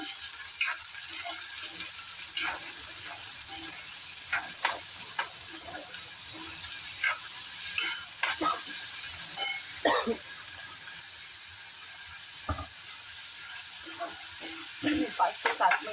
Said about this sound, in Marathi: कांदा व्यवस्थित परतून घेऊया